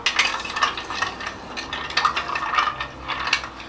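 A Sazerac cocktail stirred with a bar spoon in a cup, giving steady, close, soft clinking and scraping strokes in an even rhythm with no voices.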